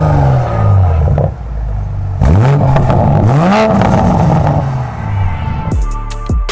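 A 2020 Toyota Supra with mufflers installed revs hard several times, its deep exhaust swelling and falling in repeated blips, loud and close, then settling to idle before a final sharp rev.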